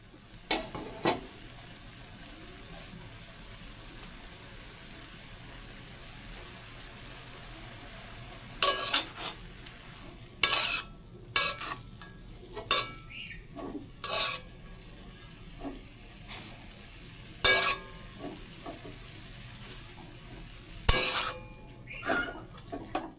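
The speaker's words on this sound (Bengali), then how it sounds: "ঢাকনা তুলে কিছুক্ষণ নেড়ে চেড়ে নিব" Leafy greens stirred in a cooking pan with the lid lifted: scattered, sharp scraping and clinking strokes of a utensil over a low, steady sizzle, with a few quiet gaps between bursts and no talking.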